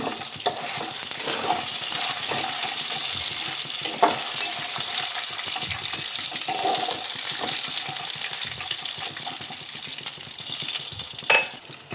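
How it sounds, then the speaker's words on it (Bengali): Peanuts, black cumin and cumin seeds fry in a pan with a steady, close sizzle that runs throughout, broken by occasional soft knocks of a stirring utensil against the pan. "এখানে নিয়ে নিয়েছি বাদাম, কালো জিরে ও জিরে। এটাকে আমি একটু ভাজতে দিয়ে দেবো।"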